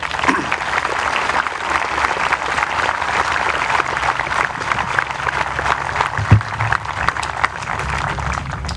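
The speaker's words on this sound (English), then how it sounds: "Please join me in giving them a warm round of applause." A Memorial Day crowd gives a warm, sustained round of applause, a dense and fairly loud clatter of clapping hands that runs evenly throughout.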